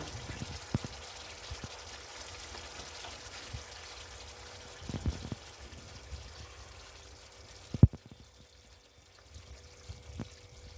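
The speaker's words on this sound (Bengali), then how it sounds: "এবার আমি পরিবেশন করার জন্য মাছটা ঢেলে নেব" Rui fish korma, a Bengali fish curry, is poured from the cooking pan into a serving dish: a quiet, soft liquid pour with a few small knocks and clinks, heard alone without any talk.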